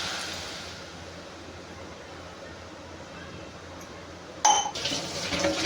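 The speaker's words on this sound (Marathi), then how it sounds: "आता कढईमध्ये ह्यात थोडंसं पाणी टाकायचं." Water splashes into a kadai of crushed jaggery for tilgul syrup, arriving as a short, loud pour near the end after a long stretch of quiet kitchen background.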